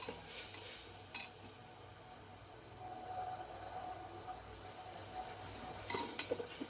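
Garlic paste and crushed ginger frying in a pot make a faint, quiet sizzle, with occasional soft stirring and utensil clinks close by.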